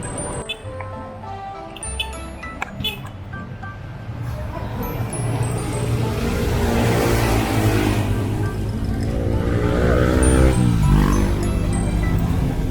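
A jeep's engine drones steadily during the ride, a dense rumble that grows louder and fuller partway through, with faint voices in the background.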